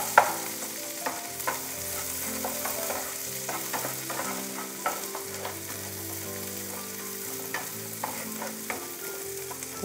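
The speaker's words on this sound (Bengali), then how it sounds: "এবার এটাকে একটুখানি রসুনের সাথে একটু ভেজে নেব।" Freshly picked greens fry with garlic in a pan, a steady close sizzle with scattered sharp crackles and stirring clicks over a low, sustained tonal background.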